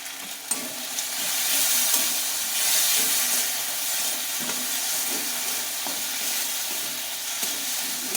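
Spices sizzle and hiss continuously in a hot pan while cooking for a moong dal with pumpkin, with occasional soft scrapes of stirring and no voices.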